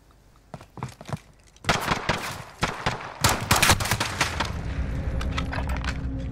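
Gunfire in Call of Duty Modern Warfare: a few sharp isolated shots, then loud rapid automatic bursts that crack out and taper into a rumbling tail, with little talk.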